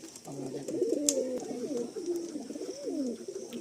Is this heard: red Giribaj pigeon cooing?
yes